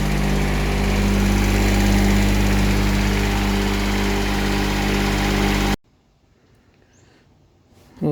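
Brand-new engine on a Kanga TD825 Maxi mini loader running at a steady, loud, close idle with a droning hum for several seconds, then cutting off abruptly into quiet.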